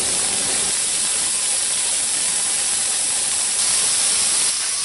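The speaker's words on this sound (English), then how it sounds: "once it starts blowing that steam out, I'm going to let it blow steam for about 10 minutes" A pressure canner loaded with jars of beets vents a steady, loud jet of steam before capping, a continuous hiss running the whole time with no talk.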